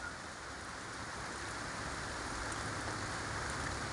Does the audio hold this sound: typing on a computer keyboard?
no